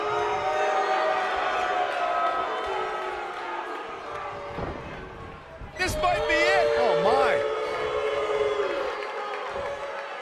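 At a wrestling match, a large crowd roars and cheers around the ring, swelling loudly after a sudden impact, while commentators talk over the noise.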